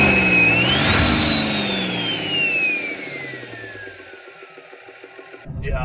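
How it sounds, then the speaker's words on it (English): A 2019 Ram Rebel's compound-turbo Cummins diesel engine (S472 feeding an HC351) revs as the turbo whistle climbs, then slowly winds down while the rumble fades and cuts off. "And I want to hear the turbo"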